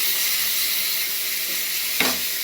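Fried potatoes sizzle in a pan as spices go in, a steady close hiss of frying with a brief sharp burst of sizzle and stirring near the end, no talk.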